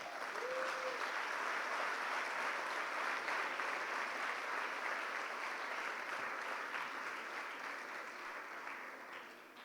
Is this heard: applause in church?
yes